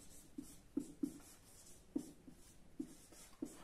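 Chalk or a marker writing on a board during a geography lesson, heard as a handful of faint, short taps and strokes at an irregular pace over a quiet room background.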